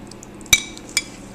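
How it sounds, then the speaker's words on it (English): A spoon knocks twice against a bowl while ambrosia fruit salad with pineapple, oranges, cherry tomatoes and shredded coconut is stirred: two sharp, close clinks about half a second apart over a quiet background. "Now let's just stir it all up."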